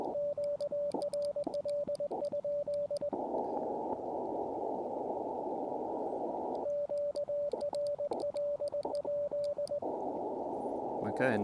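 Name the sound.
Morse code transceiver sidetone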